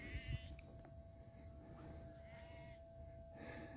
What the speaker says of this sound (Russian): Овечки блеют, коровы мучат.